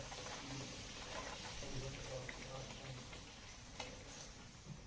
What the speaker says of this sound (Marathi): बघा पुरी चांगली फुकते आपली तेल जर तापलेलं असेल तर तुमची पुरी व्यवस्थित फुगते